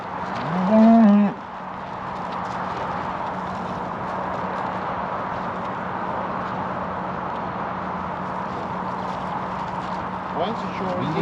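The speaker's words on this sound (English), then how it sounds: "Don't follow them old cows." Cattle mooing as cows and calves are let out, one loud nearby moo at the start followed by a steady outdoor rumble of engine and ambient noise.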